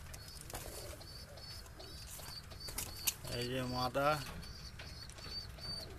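Andra pigeons in a breeding loft coo and chirp in a repeating series, with a brief burst of wing flapping midway and someone speaking a few words over them.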